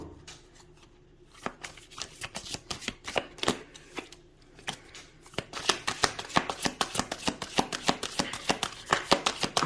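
Tarot cards being shuffled by hand, a steady run of crisp riffling flutters and soft card slaps, sparse at first and then faster and denser in the second half, close up and with no talking.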